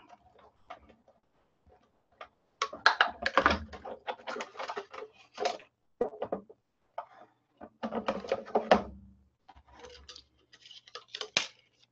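A Big Shot die-cutting machine being cranked gives off faint, irregular bursts of rapid clicking and ratcheting with short pauses between turns.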